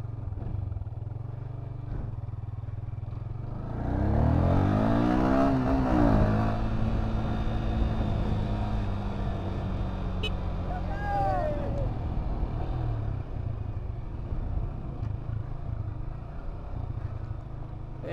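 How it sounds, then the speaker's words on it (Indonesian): Yamaha New Vixion Lightning motorcycle riding along an unfinished concrete toll road in Ngawi, a steady engine drone with wind rush that rises and thickens as it pulls away, while a rider talks over it. "kita coba muter-muter pakai ini motor"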